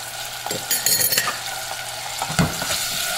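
A spoon stirs a salted, peppered sauce in a pan for a Haitian baked red snapper dish, with a steady sizzle and a few close scrapes and clinks against the metal.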